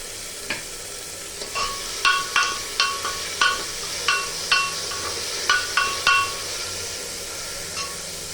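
Ginger garlic paste frying in a pan for chicken yakhni pulao, stirred with a utensil that makes a dozen or so sharp scrapes and taps in an uneven rhythm over a steady sizzle, close by and moderately loud.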